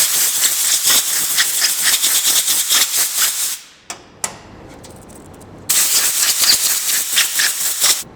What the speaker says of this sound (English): the next step is to air dry them using the air gun and compressed air.